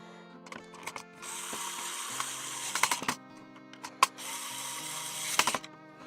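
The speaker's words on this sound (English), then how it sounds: "I'm just gonna try to put some of these screws back in" Screws going back into a plastic XShot Pro toy blaster: a screwdriver ratchets in quick clicking runs, with sharp plastic knocks and taps scattered throughout, close and fairly loud over a steady background hum.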